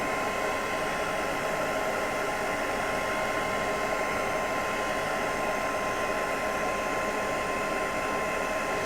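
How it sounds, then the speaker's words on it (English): A heat gun set to low blows a steady, even rush of air while heat-setting embossing powder on a handmade card. The hiss stays continuous and unchanging throughout, with no voices. "using my heat gun, I'm now going to, I've got it on the low setting so it's not too loud for you"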